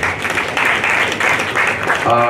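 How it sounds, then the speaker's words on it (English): Audience applause at a virtual tourism launch event in Nigeria, a short burst of many people clapping at moderate volume, ending as a voice starts speaking. "A big round of applause for him."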